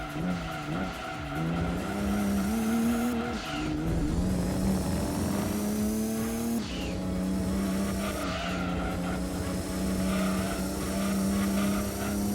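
A Nissan Silvia in Gran Turismo 2 runs with a steady engine drone that rises and drops through gear changes, with tire squeal and skidding laid over it, close and continuous with no talk.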